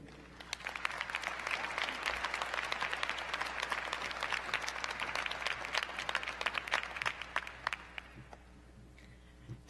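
Sustained applause from a law school commencement audience, dense steady clapping that fills most of the stretch before thinning out near the end.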